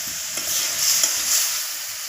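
Mushroom curry (chhatu tarkari) fries in a pan, with a bright continuous sizzle and soft scraping stirs swelling and easing across the moment, close and loud with no voices.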